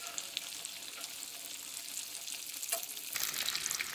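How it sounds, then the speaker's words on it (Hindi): KFC-style chicken pieces fry a few at a time in hot oil, a soft, continuous crackling sizzle that grows a little busier and brighter toward the end, heard alone without talk. "कम कम ही फ्राई करना है।"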